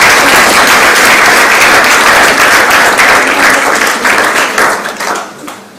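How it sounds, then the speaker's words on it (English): A crowd of university students at a meeting in Nairobi claps loudly and densely, holding the applause at full strength before it fades out over the last second or so. "can I get a round of applause?"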